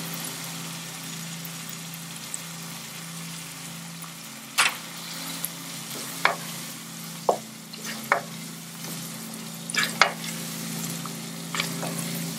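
Spicy tomato gravy with cilantro simmers in a pan with a steady low bubbling hiss and a faint hum beneath, while a handful of short utensil taps and scrapes stand out sporadically.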